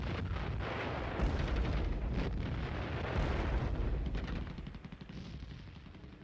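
Heavy German artillery guns pound the defenses of a besieged city in a sustained, loud barrage of deep rumbling blasts that overlap continuously before easing slightly near the end.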